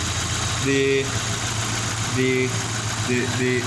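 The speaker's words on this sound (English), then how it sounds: "now the engine is running" A car engine idles steadily on a workshop bench during fuel injector testing, a constant low drone running throughout, with brief tonal sounds rising over it now and then.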